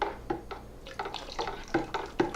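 Liquid is poured slowly into a hard cider mix while it is stirred, giving quiet splashes and drips in irregular bursts with soft sloshing between them, close by and without talking.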